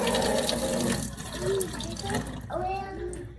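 Tap water runs and splashes as a part of a Tineco iFLOOR 3 Breeze cordless wet dry vacuum is rinsed in a sink, a steady close gush that shifts pitch. A person talks over the running water.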